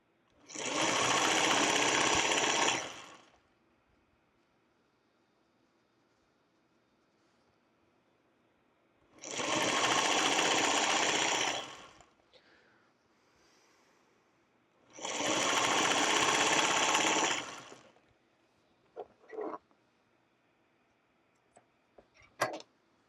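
A sewing machine chain-pieces quilt block pieces in three steady bursts of stitching, separated by quiet pauses, followed by a few soft clicks and handling sounds near the end.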